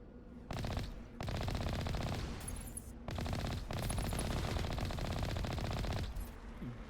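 The Mako vehicle's gun in Mass Effect Andromeda fires long, loud automatic bursts, three sustained volleys separated by brief pauses, heard up close with no talking.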